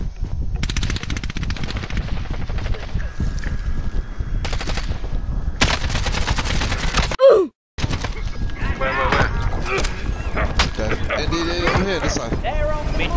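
Rapid bursts of video game gunfire crackle throughout, loud and repeated, with a brief silent gap midway, while players talk over the shooting.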